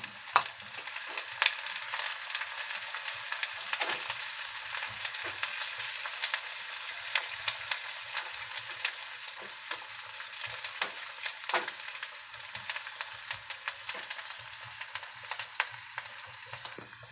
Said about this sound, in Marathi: आता आपण मिरची टाकून घेऊया. ते पण चांगले फ्राय करून घेऊया.